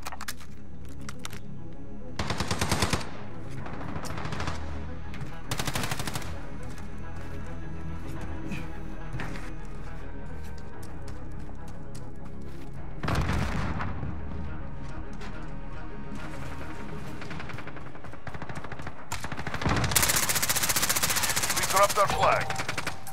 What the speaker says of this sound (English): Ah, I'm taking fire!